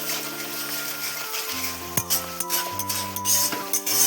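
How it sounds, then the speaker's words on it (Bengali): Diced potol (pointed gourd) and potato are stirred into fried masala in a pan for a Bengali prawn curry, with a steady scraping and clinking of a spoon against the pan under soft background music. "তারপর আবার নেড়ে নেব।"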